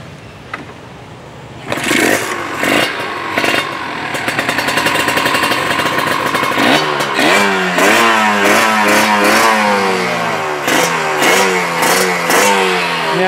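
An older Kawasaki Ninja RR two-stroke motorcycle with a carburettor and a stainless aftermarket exhaust starts up and idles with sharp throttle blips. It then revs hard in rising, repeated sweeps, loud and close, with no talking.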